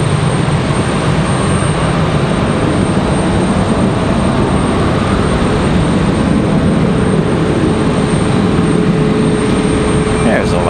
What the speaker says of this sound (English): Another American 737 touching down